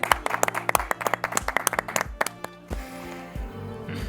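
Sparse clapping from a small audience at a COVID-19 initiatives award ceremony: a handful of hands applaud in a loose, uneven rhythm for about two and a half seconds, then fade into room tone with faint background noise.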